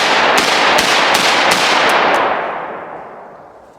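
Rapid string of loud blasts from a Taurus Judge Magnum TORO revolver fired outdoors, about six sharp reports in quick succession, then a long ringing decay fading out.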